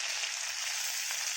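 A bay leaf fries in hot oil in a kadai, giving a quiet, even, continuous sizzling hiss heard close up with no voices.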